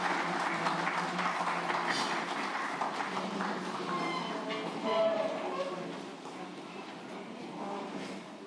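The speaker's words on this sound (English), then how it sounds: "A round of applause as he comes through." Audience applause fills a breakfast meeting hall as the finance minister, Professor Mtuli Ncube, comes forward to speak; steady clapping continues for several seconds under murmuring, easing slightly toward the end.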